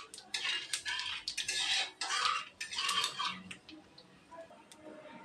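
Black cumin and whole cumin seeds frying in a pan for a spicy raw potato dish, a close run of clinking, scraping stirring strokes against the pan with brief sputtering bursts, fading to a quieter sizzle near the end.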